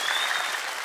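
A studio audience at the Afghan Star Season 10 finale applauds the two finalists, a dense, steady wash of clapping that fills the whole moment without a break.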